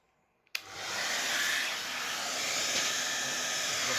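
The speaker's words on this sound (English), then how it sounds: "So I'm now going to get a hairdryer," A hairdryer on hot mode switches on after a brief quiet and then blows steadily with a loud, close whooshing hiss, aimed at paper to melt a coating.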